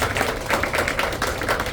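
Audience applause for the top 15 finalists at the Communications Olympiad 2025 Grand Championship, a steady patter of many hands clapping at moderate loudness with no voices.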